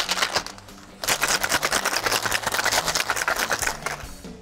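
Ice rattles hard inside a cocktail shaker, a rapid continuous rattling rhythm after a brief pause, close and loud with no talking.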